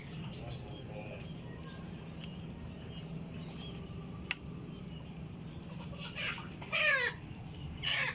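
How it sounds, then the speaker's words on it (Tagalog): Chickens clucking in a garden during rainy season, with faint background clucks and a couple of louder nearby calls toward the end over a steady low ambient hum. "Manok."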